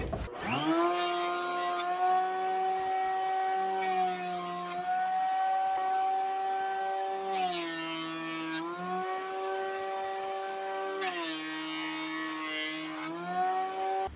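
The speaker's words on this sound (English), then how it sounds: "We're going to plane two edges so that they're at 90-degree angles to each other" A jointer planes the edges of wooden boards for a long-handled spatula. The motor's humming whine runs throughout, and four separate passes of rougher cutting noise rise over it before dying back down, all heard at a modest distance.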